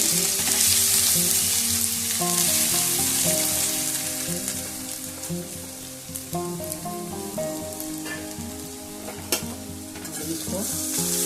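Raw turmeric fries in melted ghee in a pan over low-to-medium heat, giving a steady close sizzle with stirring and spoon scrapes throughout and no talk.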